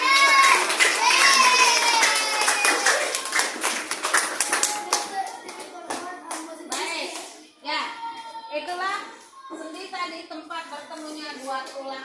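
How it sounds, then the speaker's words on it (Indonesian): A class of children claps together in a classroom, a loud burst of hand claps that thins into scattered taps while kids' voices and shouts carry over it. "Tepuk tangan buat kalian semua"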